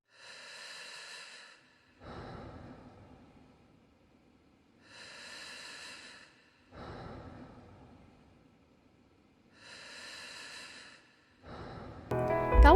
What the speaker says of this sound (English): some breathing that kind of sounds like wheezing